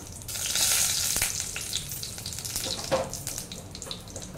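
Bay leaf, dried red chillies and cumin hit hot oil and fry with a steady close sizzle, a brighter crackle surging at the start and lighter stirring or clinking noises along the way, no voices.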